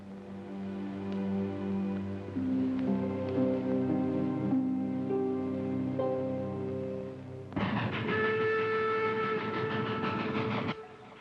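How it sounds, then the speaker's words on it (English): A train rolling along the rails in an old western TV episode, a steady loud rumble with sustained whistle-like tones, then a brighter, harsher blast near the end before it cuts off. "The train was moving right along."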